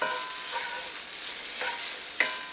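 Sausage browns in olive oil in a pan for sausage gravy, a continuous close sizzle with faint stirring scrapes and a light clink near the end.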